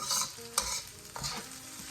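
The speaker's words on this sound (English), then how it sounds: "I'll let my okra fry down really good" Okra fries and sizzles in hot oil while a utensil stirs and scrapes the pan in a few brief clanks.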